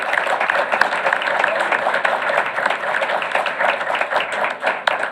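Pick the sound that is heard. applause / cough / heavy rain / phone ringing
applause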